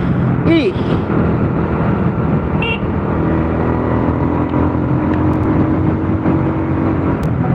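A Honda Grand motorcycle is ridden at full throttle toward top speed, its engine a loud, continuous drone mixed with rushing wind. A brief horn-like toot sounds near the start, and a voice is heard at times.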